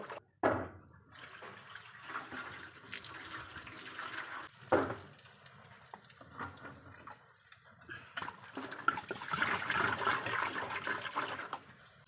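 Rice being washed and stirred by hand in water at a rural outdoor meal: intermittent swishing and sloshing, with a louder splash near the start and a fuller churning stretch toward the end.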